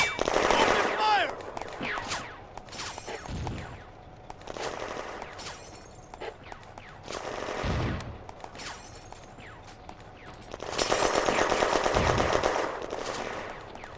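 Bursts of gunfire from the 1940 industrial-zone battle in the video game Firefight, with rattling automatic fire in several loud volleys separated by short pauses, heaviest near the end.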